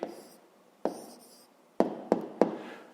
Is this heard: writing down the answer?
yes